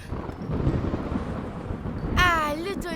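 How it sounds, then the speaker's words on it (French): Rumbling thunder rolls through a thunderstorm with rain, a low, loud, continuous roar lasting several seconds before a voice briefly speaks over it at the end. "Ah, le tonnerre."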